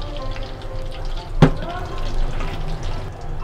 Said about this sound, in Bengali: এখন আমি আরেকটু তেল ছিল, এটা দিলাম